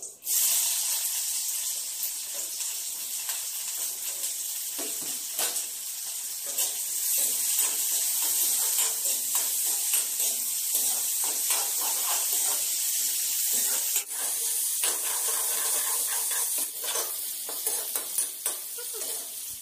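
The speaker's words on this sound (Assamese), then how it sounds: "পিঁয়াজখিনি অকণমান ভাজা হৈ গৈছে" Onions fry in hot oil in a pan for a jackfruit curry, giving a loud, steady bright sizzle throughout with occasional stirring scrapes close by.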